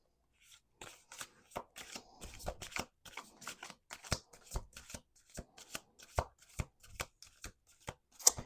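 A deck of cards shuffled close by, a flurry of riffles followed by a series of distinct sharp card taps and snaps at a steady pace.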